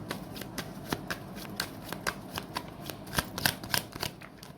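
Tarot cards are shuffled up close, a quiet run of quick riffling flicks and soft slaps repeating in an uneven rhythm.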